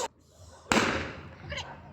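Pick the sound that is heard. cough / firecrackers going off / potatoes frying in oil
firecrackers going off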